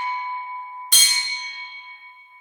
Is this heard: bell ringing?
yes